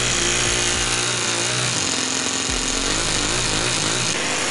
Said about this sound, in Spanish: así que ahí nos tenemos nuestro motor Tonjam funcionando